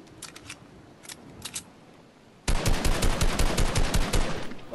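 Gunfire in Fortnite: a few sparse shots crack at first, then a loud, rapid automatic burst rattles on without a break.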